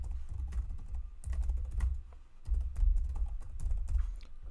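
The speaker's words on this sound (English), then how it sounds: "I'm just going to write my email in here." An email address is typed on a computer keyboard, steady clicking keystrokes in a few bursts with short pauses between, close and clear with no voices.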